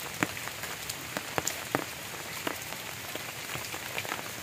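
Heavy monsoon rain in the countryside, a soft continuous patter of drops on surfaces with scattered sharper splashes, fairly faint and steady throughout.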